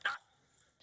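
A single dog bark rings out at the start outdoors on a mild, sunny day, fairly close and sharp, followed by quieter ambient noise and faint sounds.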